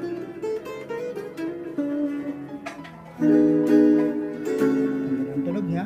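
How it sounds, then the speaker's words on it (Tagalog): A white Fender American Standard electric guitar, just repaired after a pot fault, plays a run of sustained chords and notes, moderately loud and close, swelling louder midway, with no talk over it. "narinig nyo yung tunog ng American Standard."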